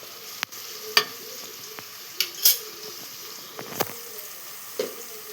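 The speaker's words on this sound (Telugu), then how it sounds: "బాగా కలిపేసుకొని గోల్డెన్ బ్రౌన్ కలర్ వచ్చేంత వరకు కాస్త వేపుకుందాం" A pan of black-eyed pea batter fritters for a festival recipe is stirred and fried until golden brown, with a steady soft sizzle under sharp metal clinks and scrapes of the spoon against the pan, no talking.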